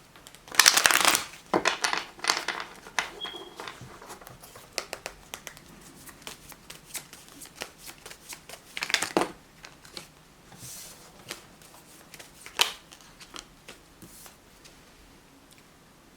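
Tarot cards handled at a reading table: a sharp riffle of shuffling early on, then scattered soft slaps, flicks and rustles as three cards are drawn and laid down, with quiet gaps between.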